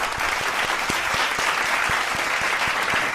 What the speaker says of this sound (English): Everyone, let's give a round of applause for Josh.